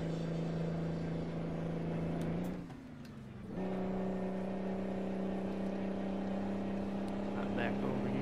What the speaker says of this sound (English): I love the brake sound on this truck